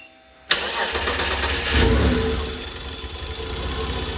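A car engine running Speeduino firmware fires up after a near-silent start: a sharp catch, then a loud revving swell that settles into a steady, slightly knocking mid-pitched idle.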